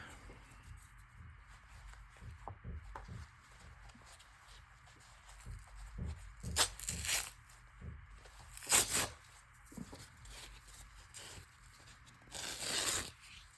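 Quiet rustling and handling, then a few sharp ripping bursts of fabric tearing, spaced apart, close by with no speech.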